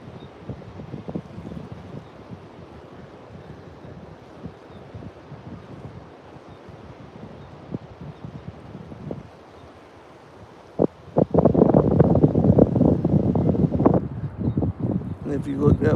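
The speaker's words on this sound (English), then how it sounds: "this wind's blowing against me here" Wind buffets the microphone outdoors at the beach near Sunset Beach Pier, a low rumbling roar that swells into loud, close gusts in the second half while someone talks.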